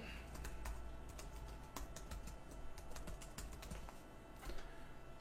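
Quiet, rapid keystrokes on a computer keyboard, an irregular patter of light clicks close by in a low hum, with no talk.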